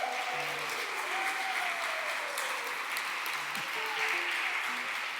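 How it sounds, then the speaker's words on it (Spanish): A church congregation applauds in a large hall, a dense, sustained wash of clapping from many hands with a few faint voices and tones underneath. "así que le damos un fuerte aplauso."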